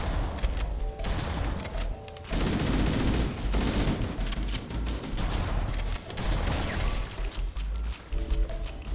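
Shotgun fire in the video game Halo CE: loud, close blasts in dense, overlapping volleys that run almost without a break, with short gaps between bursts.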